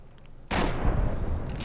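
A single gunshot from a weapon in Fallout: New Vegas, a sharp loud blast after a quiet lead-in, followed by a long rumbling decay that tails off over about a second.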